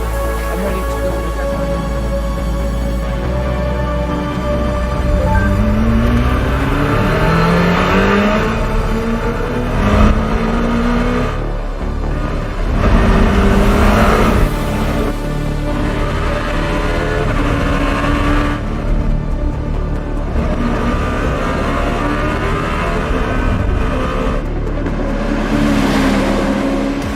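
Czinger 21C hypercar accelerating hard out of corners on the Laguna Seca track, its engine rising in pitch through repeated upshifts, loud and close throughout, with a driver's voice faintly underneath.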